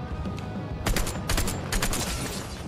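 Pistol gunfire in the Fortnite video game, a quick cluster of sharp, loud shots with a steady game-ambience bed underneath and no talking.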